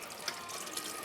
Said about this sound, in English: now I will add a little bit of water here